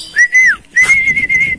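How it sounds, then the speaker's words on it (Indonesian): A person whistles two sustained, close notes to call a zebra dove, the first falling off at the end and the second held longer with a slight warble. "karena saya pakai siulan ya begitu, iramanya itu selalu begitu"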